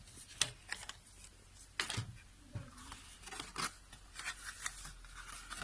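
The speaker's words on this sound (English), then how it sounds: "And now I'm just cutting the edges so they are straight and even." A Fiskars paper trimmer slices along paper edges with a series of soft, close scraping and sliding strokes, intermittent and quiet, with faint handling rustles between cuts.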